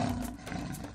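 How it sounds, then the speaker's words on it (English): A lion gives a short, close, ferocious roar, a loud rough growl with a couple of pulsing surges. "A lion."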